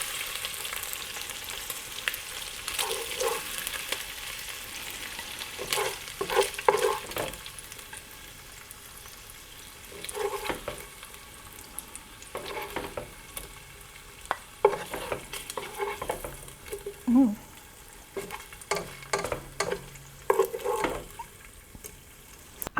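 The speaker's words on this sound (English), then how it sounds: "I'm going to be putting in my vegetables, and I'm going to be sauteing them" Vegetables are sautéed in a pot after kielbasa is browned, a low sizzle under repeated scraping and stirring of a utensil against the pot, with clinks and a brief water trickle, close and fairly quiet.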